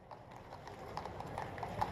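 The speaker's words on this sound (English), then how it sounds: "arrives at the portico of the train station atop a horse cart full of luggage" Hooves of a horse pulling a luggage-laden cart clip-clop in a steady rhythm outside a train station portico, a moderately near, even trot continuing for the whole stretch.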